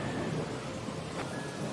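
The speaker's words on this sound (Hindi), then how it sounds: "आसमान में काले घने बादल आ जाते हैं और गरज के साथ बारिश भी शुरू हो जाती है" Thunder and rain in a cartoon: a dense, steady downpour hiss with a low rumble underneath, loud and continuous for the whole stretch.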